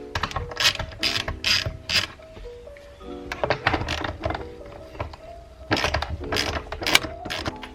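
A ratchet with a 12mm socket backs out the shifter bolts on a Mitsubishi Evo, giving repeated rapid clicking bursts in an uneven rhythm, close and fairly loud, with small clunks between them.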